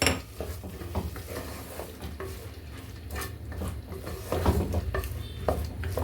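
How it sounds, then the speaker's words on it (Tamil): A spoon stirs turmeric and asafoetida into a pumpkin kootu curry in a pot, giving soft, irregular scraping and clinking of metal against the pot, close and fairly quiet. "இதை போட்டு இதையும் நல்லா மிக்ஸ் பண்ணிக்கோங்க."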